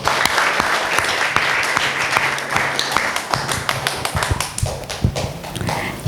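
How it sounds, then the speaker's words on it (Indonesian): Guests at a wedding service clap together, a dense wash of applause with sharp individual claps standing out, continuing steadily throughout. "Mari kita tepuk tangan."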